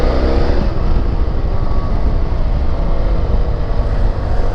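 A BMW F 800 GS motorcycle riding in second gear, its engine drone steady and loud under heavy wind rush, with no pauses or shifts.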